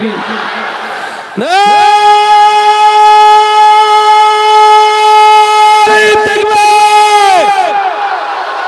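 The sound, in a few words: crowd shouting the takbir chant at a religious gathering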